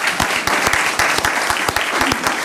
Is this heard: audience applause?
yes